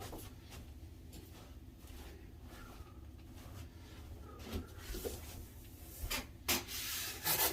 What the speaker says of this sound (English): Sand and smooth that down and give it another shot.